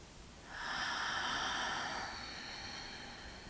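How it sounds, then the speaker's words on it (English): One deep breath taken during an energy exercise: a single long, close, breathy inhale swells in after half a second and holds for about a second and a half, then fades into quiet room tone, with no talking. "One more breath."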